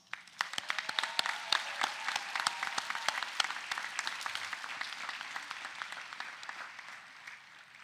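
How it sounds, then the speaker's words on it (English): Graduates and guests clap at the UCLA Arts commencement, a fairly distant crowd applause with sharp individual claps standing out from the steady wash, holding steady and then thinning toward the close. "Let's give you all a round of applause."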